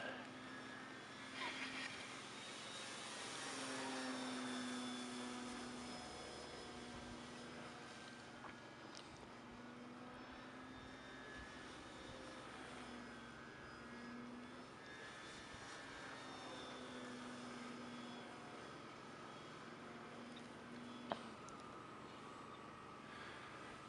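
A Dynam PT-17 radio-controlled model biplane, a World War II trainer replica, drones steadily in flight with a constant engine hum that swells and fades as it passes, faint and distant over outdoor background noise.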